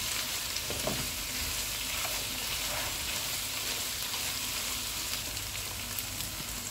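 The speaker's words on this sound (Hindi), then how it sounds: "अब इसमें शिमला मिर्च और बंद गोभी डालेंगे। इनको 1 मिनट तक भूनेंगे।" Capsicum and cabbage fry in a pan for vegetable biryani with a steady, dense sizzle that runs throughout, now and then broken by soft stirring scrapes.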